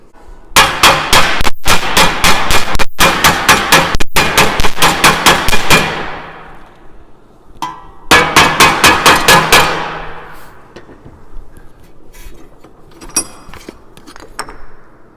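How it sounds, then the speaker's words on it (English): Sharp, ringing hammer blows tapping a metal part over into a 90-degree bend, fired in rapid, evenly spaced bursts with a short pause between runs and a few lighter taps trailing off at the end. "I'm going to tap it over with a hammer"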